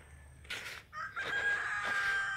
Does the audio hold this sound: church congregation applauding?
no